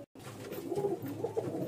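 Several male pigeons of a loft setup coo in overlapping low, throaty rolls, close and continuous after a brief silent gap at the start.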